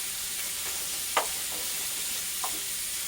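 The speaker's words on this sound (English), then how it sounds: "Just breaking it up with my cooking utensil." Meat being broken up in a pan over medium-high heat for biscuits and gravy, a soft continuous sizzle with two brief scraping knocks from a cooking utensil, no talking.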